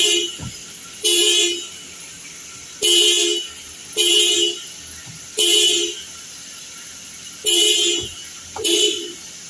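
A car horn honks in six short, loud blasts with brief pauses between them, steady and close by.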